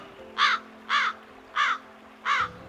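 Crows cawing, four loud harsh caws evenly spaced about half a second apart, close and clear over a faint low hum.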